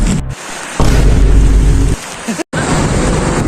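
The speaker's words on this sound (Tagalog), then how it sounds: "Ayan na ang ulan, par. Mapatak na." Steady broadband hiss of rain falling, loud and close, with a brief low rumble partway through and a sharp dropout near the end.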